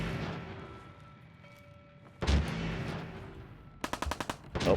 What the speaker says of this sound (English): They're continuously shooting at each other